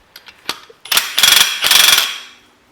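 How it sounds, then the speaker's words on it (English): A few short taps, then loud rapid bursts of hammering rattle from a 1/2-inch impact wrench working on a Scrambler 500 gearbox, close by, each burst lasting under a second. "Let me get my big drill. I meant my big impact,"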